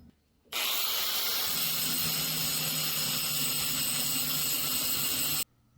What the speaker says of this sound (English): I can grind it down, blend those welds in, and give these bones some dimension. So time to do some grinding.